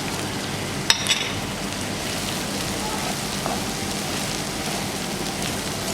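Green beans frying in a hot pan for Nigerian fried rice, a steady soft sizzling hiss throughout with a couple of faint clinks near the start.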